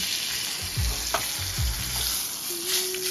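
A fish fillet fries in a hot pan with a steady, close sizzle and crackle, broken by a few low thumps and scrapes as it is handled, with no talk.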